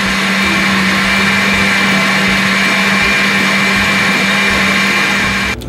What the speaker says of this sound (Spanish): lo vamos a moler perfectamente bien en la licuadora